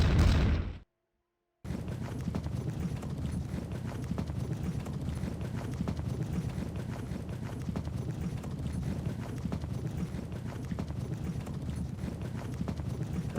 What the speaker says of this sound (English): that is a lot of parliamentarian cavalry